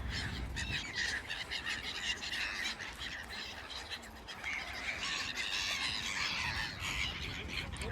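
A dense chorus of many birds squawking and calling at once at a lake in Crângași Park, Romania, loud and continuous, with overlapping harsh cries throughout.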